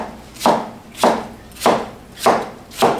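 A knife smashes whole cucumbers on a cutting board for Korean smashed cucumber salad, giving five sharp, evenly spaced thuds about half a second apart, close and loud with no talking.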